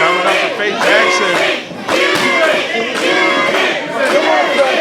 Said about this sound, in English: Crowd coming up for Faye Jackson